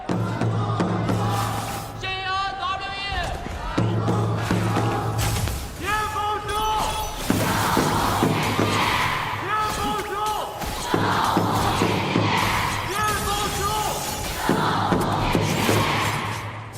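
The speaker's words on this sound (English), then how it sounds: "let's pass it over to the audience to once again cheer for their team" Audience in an esports arena at an Honor of Kings Challenger Cup knockout match cheering for their team, a loud continuous roar of shouting voices with repeated surging chants and bursts throughout.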